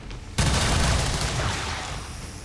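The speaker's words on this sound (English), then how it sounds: "Dual Strike seems like the play. So let's put some bullets into him." A sudden burst of automatic gunfire from a Dual Strike in XCOM 2, a loud, dense rattle of shots starting abruptly and continuing as a sustained volley.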